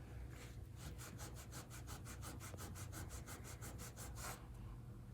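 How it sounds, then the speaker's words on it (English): A brush scrubs a log wall in fast, even back-and-forth strokes, about twenty rasping passes in quick rhythm, close and fairly quiet, with no voices. "I'm gonna dip the brush a little bit and just scrub these areas that have more of like the crevices."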